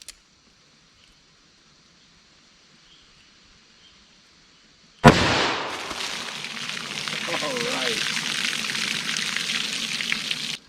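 .44 Magnum fired into water jugs, one sharp, loud crack after five seconds of near silence, followed by a long splashing, spattering spray of water.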